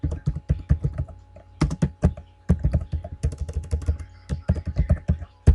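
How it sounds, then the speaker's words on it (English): Keys clatter on a computer keyboard while text is entered into an Excel spreadsheet: quick, close, irregular bursts of taps with short pauses, no voice. "Over here, we're going to type in online"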